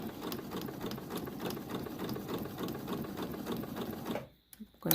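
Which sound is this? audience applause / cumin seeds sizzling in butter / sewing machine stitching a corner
sewing machine stitching a corner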